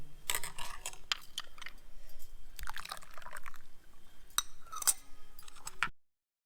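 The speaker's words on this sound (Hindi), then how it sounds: "और हमारा पुदीने का पानी भी डाल देंगे।" Mint water poured from a vessel into a homemade raw mango drink in a kitchen, heard as several short splashing pours with brief gaps, close and fairly quiet, with no talking.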